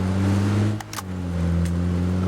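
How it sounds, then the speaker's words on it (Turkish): A red Toros car in the PUBG video game hums with a steady engine drone as it approaches, holding a constant level apart from a brief dip. "Toros, kırmızı Toros geliyor"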